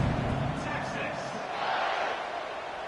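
Football stadium crowd at a Texas vs. LSU game roars steadily at kickoff, a dense, continuous wash of cheering with a commentator talking over it.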